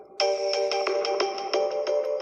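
A soft modified ringtone on a Samsung Galaxy S9 Plus plays bright, repeating electronic tones in a quick, even rhythm for about two seconds.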